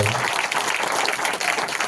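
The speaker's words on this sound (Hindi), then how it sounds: "उस यीशु के लिए हम जोरदार ताली बजा करते हैं।" A church congregation claps loudly for Jesus, a close, dense and energetic burst of applause filling the whole moment without pause.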